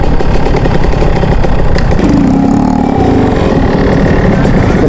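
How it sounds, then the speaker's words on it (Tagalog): Honda motorcycle fitted with a Chon Pipe Thunder racing exhaust, a loud, continuous close-up engine rumble with a gritty, throaty drone throughout. "Shoutout nga pala dyan sa tambutso natin, Chon Pipe, Thunder,"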